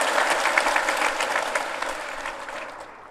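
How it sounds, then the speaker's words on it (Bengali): An audience at a medal award ceremony honouring fish producers claps together in a full, sustained round of applause that slowly thins and fades toward the end. "সবাই মিলে হাততালি"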